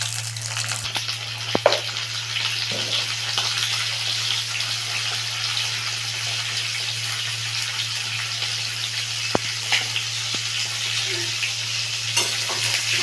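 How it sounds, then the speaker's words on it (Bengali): Pointed gourd frying in hot oil with salt and turmeric makes a steady, close sizzle that runs evenly throughout, with a few faint clicks of stirring and no talk. "আমি পটলটা লাল করে ভেজে নেব।"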